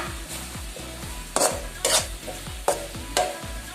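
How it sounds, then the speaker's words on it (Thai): Tilapia fish and spring onions stir-fried in tamarind sauce in a pan, a steady sizzle under repeated rhythmic scrapes of a utensil stirring against the pan, with a few louder clanks, close and without talk. "แล้วก็ผัดให้ทุกอย่างเนี่ยเข้ากันดีเลยจ้า ผัดไม่ต้องนานมากนะจ๊ะ"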